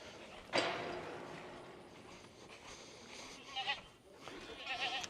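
Goats bleating on a farm, several wavering calls scattered through the scene at moderate distance, with background rustle and a sharp noise near the start.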